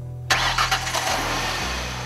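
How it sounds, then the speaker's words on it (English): A truck engine parked in an open garage cranks and catches abruptly, then settles into a steady mid-pitched idle with a slight change in tone near the end. "The research team started a truck's engine while it was parked in an open garage."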